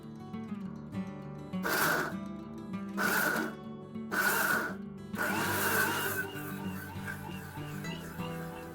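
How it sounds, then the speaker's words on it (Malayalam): A kitchen mixer grinder whirs through sautéed curry masala ingredients for paneer butter masala in several short bursts, each a loud whining grind stopping and starting, ending in one longer run over a steady background hum. "ഞാനത് മിക്സിയിലോട്ട് ഇടാൻ പോവാണ്."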